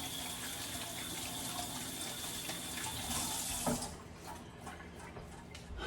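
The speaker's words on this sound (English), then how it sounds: "I'm gonna rinse my hands right quick." Water from a kitchen tap running steadily as hands are rinsed underneath, a close continuous splashing stream that eases off toward the end, no talking.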